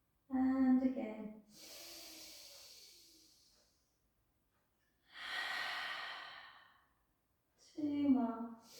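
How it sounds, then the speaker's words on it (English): Slow, deep breaths during a gentle pilates session, with a long airy inhale and exhale in quiet surroundings, close and soft, framed by brief spoken cues at the start and end. "Take a beautiful breath in, let the belly rise. Exhale, release."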